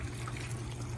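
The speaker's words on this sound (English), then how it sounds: "They've got a little water feature over here," A small pool water feature trickles continuously outdoors, a soft, steady splashing wash with no voices.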